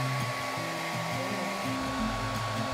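A hairdryer blows steadily on a small model wind turbine in a school classroom experiment with weights, its motor hum constant and loud, with a shifting low whirring pitch underneath.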